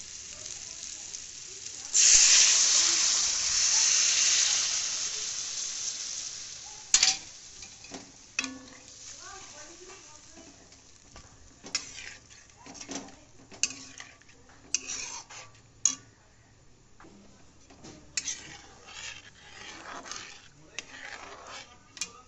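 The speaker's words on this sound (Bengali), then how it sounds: "এখন আমি গ্রেভির জন্য ঝোলটা দিয়ে দেবো।" Broth for the gravy pours into a hot pan with a loud hissing surge lasting several seconds, followed by a quieter simmer and repeated clinking, scraping stirs of a spoon against the pot.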